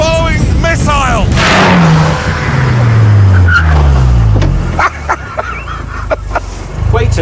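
KTM X-Bow sports car arriving close by, its engine rising and falling loudly as it revs and shifts, with a voice speaking over the engine.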